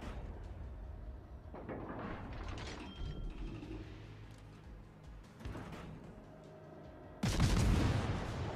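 Warship guns fire during a World of Warships: Legends naval battle, a muffled rumble of distant shots under mechanical clatter, ending in a louder, nearer boom.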